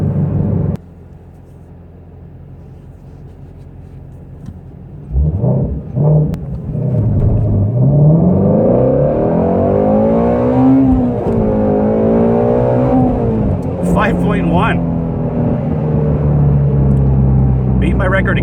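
A 526-horsepower Shelby GT350 engine roars from idle into a hard launch on cold streets, revving up through rising pitch sweeps, loud and close throughout.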